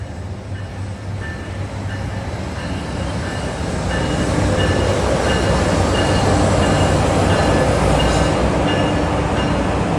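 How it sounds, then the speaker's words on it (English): Commuter train 1167, running Hoboken to Suffern, rolls past on the former Erie main line in New Jersey, its rumble and wheel noise swelling louder over ten seconds into a broad, close roar with faint squealing tones. "6:13, running closer to schedule, is train 1167, Hoboken to Suffern."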